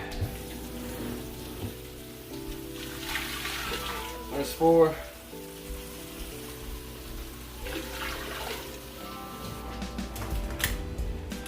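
Tap water runs into a cooking pot holding elderberries in two separate pours, a steady rushing splash with a short spoken remark between them.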